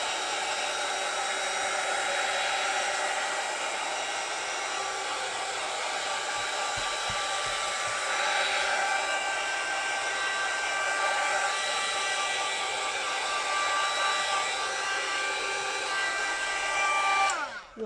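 Hair dryer blowing on a glued napkin in a junk journal, a close, steady whir that holds for the whole stretch before cutting off at the end, with no voices.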